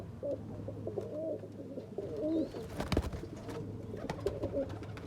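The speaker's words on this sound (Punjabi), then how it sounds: "ਇਹ ਹਜ਼ਾਰ ਵਾਲੇ ਕਬੂਤਰ" Red Cheena pigeons kept by a fancier coo repeatedly close by in soft, rolling phrases, with light rustling and a brief knock in the middle.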